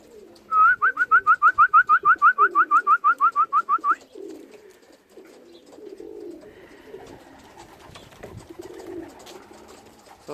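Young racing pigeons settling in and on top of the loft after training. A rapid series of about twenty loud, evenly spaced whistled notes opens the scene, followed by softer low cooing and rustling nearby.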